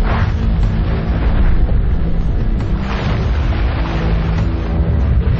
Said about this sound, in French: Chaque année, des milliers d'explosions secouent le Soleil.